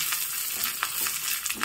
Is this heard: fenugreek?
yes